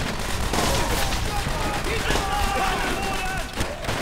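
Machine gun fire in Call of Duty: World at War during the Assault on Berlin rattles in continuous loud bursts mixed with other gunfire, voices shouting beneath the combat noise.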